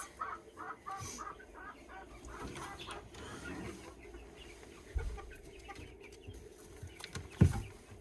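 Backyard flock of chickens and young chicks clucking softly in short bursts around their coop during evening cleaning, with a louder squawk near the end; steady low rustle underneath.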